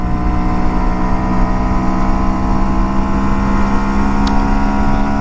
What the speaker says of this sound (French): j'ai pas non plus envie de lui faire gueuler le moteur